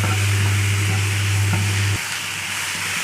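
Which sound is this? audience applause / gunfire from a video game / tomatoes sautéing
tomatoes sautéing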